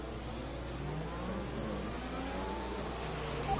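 Formula 1 car engine in F1 2021 racing at the Spanish circuit, a steady mid-pitched hum with slow rising revs, moderately loud and without talk.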